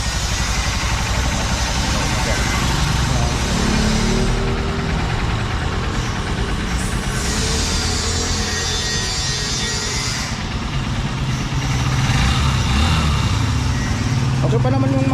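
A Honda Supremo motorcycle engine idling in a rural farm setting in Bolinao, a loud, continuous running drone with a slightly rough, knocking texture that holds steady for the whole stretch.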